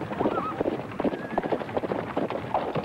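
Donkeys' hooves clopping in a rapid, steady rhythm in a dramatised recording of Ali Baba and the forty thieves, close and continuous with a faint bray-like whine over a windy, rumbling background.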